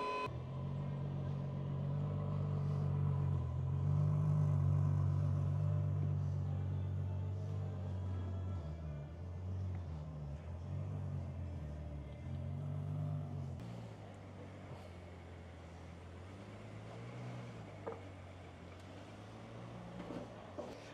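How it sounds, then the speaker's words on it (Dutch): A car is driven off the deck of a car transport truck, its engine rumbling low and steady, swelling slightly as it moves, then settling into a quieter idle. "En dan gaan we de laatste auto eraf rijden."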